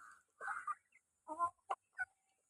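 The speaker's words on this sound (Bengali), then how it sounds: "এগুলো মিনি ব্রয়লার।" Mini broiler chickens kept at home give several short, close clucks and calls in quick bursts with brief pauses between them, alone without talk.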